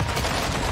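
Rapid gunfire in the Warzone 2 shooter game, a dense burst of loud shots packed into less than a second.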